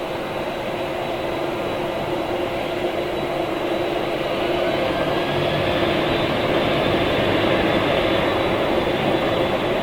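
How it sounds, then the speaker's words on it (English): Airliner jet engines roar at Manchester Airport on a foggy day during takeoff, a continuous loud, broadband rumble that holds steady and swells slightly over ten seconds, with no talking. "Her engines might actually clear the mist a little bit."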